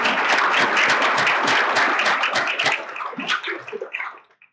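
Dense applause from a crowd, steady for a few seconds before thinning out and fading to scattered claps.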